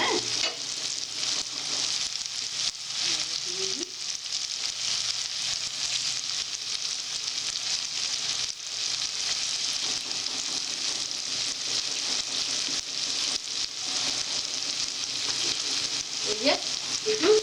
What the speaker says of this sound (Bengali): এই যে একটু এই যে দই দিচ্ছে, হ্যাঁ।